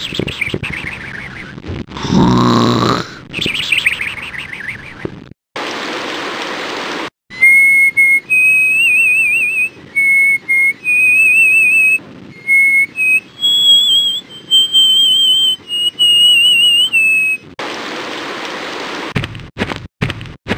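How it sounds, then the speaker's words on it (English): A cartoon hare snores in the 1993 Living Books Tortoise and the Hare Windows game: whistling, wavering tones alternate with noisy breathy bursts in a steady repeating cycle, close and fairly loud, with no talking. "All this snoring's making me sleepy."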